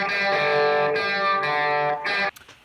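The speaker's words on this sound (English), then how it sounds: "there is like a ton of reverb, and that is coming directly from the amp on the kind of spring reverb on the Vox AC15" Guitar played through a Vox AC15 amp drenched in its built-in spring reverb, sustained distorted chords ringing in washy bursts before cutting off into a brief reverb tail.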